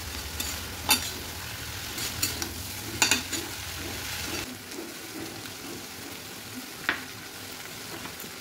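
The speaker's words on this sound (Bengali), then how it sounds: "এবার এর মধ্যে ভেজে রাখা চিংড়ি মাছগুলো দিয়ে দেব।" Pre-fried shrimp tipped into a pan with fig (dumur) curry, sizzling steadily while a spatula stirs and scrapes in sharp bursts; frying hiss is dense at first, then thins to quieter scraping and a few clinks.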